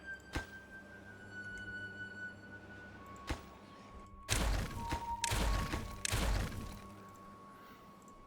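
Explosives detonate in Timberborn as three heavy, booming blasts in quick succession, each with a crashing tail, after a quiet stretch with a couple of faint thuds.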